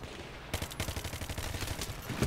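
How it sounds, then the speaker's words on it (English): Rapid bursts of MG36 machine gun fire in Battlefield 3, loud and close, a dense stream of sharp shots starting after a brief quiet moment and continuing to the end. "I keep firing with that gun, it's always nice."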